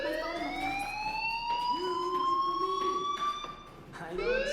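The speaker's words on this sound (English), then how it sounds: "do you hear that fire alarm?" A fire alarm in the video game Life is Strange Remastered wails continuously with a rising, sustained tone, loud and steady throughout, briefly dipping near the end before restarting.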